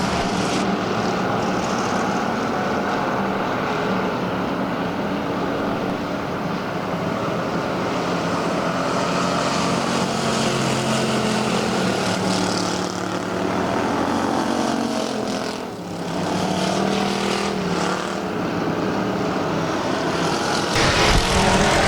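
Bomber-class race cars run their heats on the Arizona Speedway track, and their engines make a loud, continuous roar that swells and fades slightly as the cars pass by.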